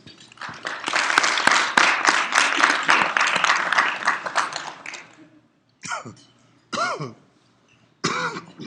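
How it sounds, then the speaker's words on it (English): An audience applauds for a speaker coming forward. The clapping is loud and crowded for about five seconds, then stops abruptly, and a few separate coughs and throat clearings follow in the quiet. "let's give him a round of applause as he comes forward"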